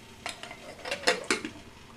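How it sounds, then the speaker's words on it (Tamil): Metal clinks and clatters of a pressure cooker lid being set and closed over a pot with utensils, several sharp close knocks in quick succession, no talking. "வச்சு பாருங்க குக்கர் மூடிட போறேன்."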